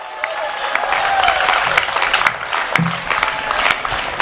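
An audience at a Hindi comic poetry gathering claps, a dense wash of applause and crowd noise lasting several seconds at full strength.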